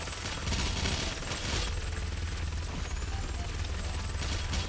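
Rapid, continuous gunfire from shooting enemies in Doom Eternal on Ultra Nightmare difficulty, dense and steady, with no voices.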